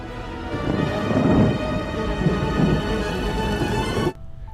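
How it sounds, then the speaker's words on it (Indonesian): A rolling rumble of thunder over steady rain, loud and close, swelling early and again midway before cutting off abruptly near the end. "Tiba-tiba suara petir pun dan hujan muncul sekaligus."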